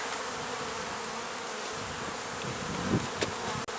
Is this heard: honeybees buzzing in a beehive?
yes